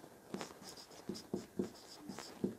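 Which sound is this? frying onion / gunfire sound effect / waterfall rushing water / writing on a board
writing on a board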